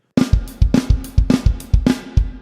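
Drum kit playing an opening drum pattern, a close, loud sequence of sharp snare and tom hits with kick drum underneath in a driving, evenly spaced rhythm, with no voices.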